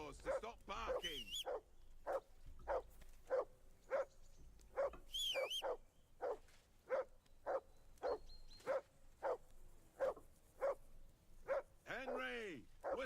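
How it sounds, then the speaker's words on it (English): In Kingdom Come: Deliverance 2, a dog keeps barking at a regular, insistent pace, with a couple of higher yelps and whines mixed in, heard fairly clearly over quiet game background. "whistle at that mutt of yours to stop barking."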